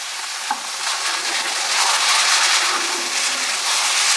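Chicken pieces drop into hot salted oil in a pan, setting off a steady, loud broadband sizzle that holds evenly for several seconds with a faint stir near the start.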